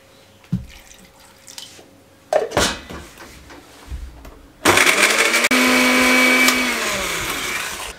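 A mixer grinder grinding garlic with a little water whirs loudly and steadily for several seconds, starting abruptly after a few clunks and taps, with a high motor whine throughout.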